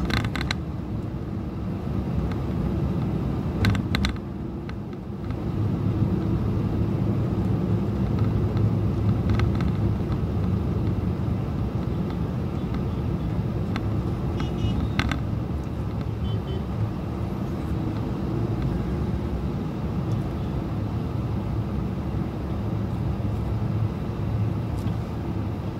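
Morning city road traffic moves through Surat, India, with a continuous loud rumble of engines close by and the occasional brief horn or clatter above it. No one speaks.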